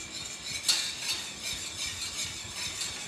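A whisk working butter into a pea sauce in a pan, giving quick repeated metallic scraping and clinking strokes at a steady rhythm, close and fairly quiet.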